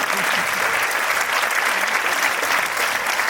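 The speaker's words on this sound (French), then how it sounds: "on peut applaudir" Steady applause from a comedy show audience fills the room, dense and continuous clapping with no pauses, loud and close throughout.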